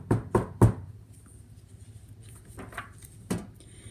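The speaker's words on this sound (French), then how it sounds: "Alors le loup frappe à la porte encore une fois." Three quick knocks on a solid door in a brick house, then a pause and a couple more scattered taps, fairly close and unaccompanied by voices.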